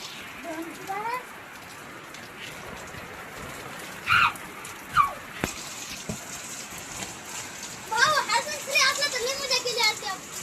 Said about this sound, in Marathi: लय पाऊस रे. पहिला पाऊस आहे ना.